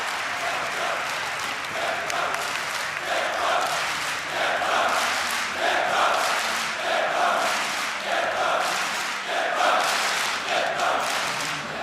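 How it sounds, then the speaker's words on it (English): A home crowd at a Dreamhack Winter 2014 Counter-Strike grand final esports match cheers and applauds in a sustained roar, with rising and falling swells of shouting and clapping. "The home crowd is going nuts right now"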